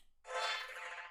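A synthesizer plays a single bright, buzzy phrase, a call in a call-and-response pattern. It enters suddenly, holds for about a second and fades slightly, heard alone and up close.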